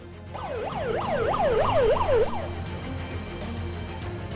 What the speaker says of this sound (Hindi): एक एम्बुलेंस तो जैसे तैसे आगे बढ़ी तो दूसरी आकर जाम में फंस गई।